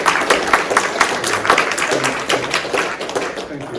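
A crowd at an art exhibition opening night at a gallery claps enthusiastically, a close, steady stream of hand claps with brief voices mixed in.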